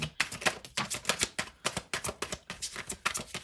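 Tarot cards shuffled by hand, a rapid run of crisp riffling flutters and slaps in a quick, uneven rhythm, close and fairly quiet, with no talking.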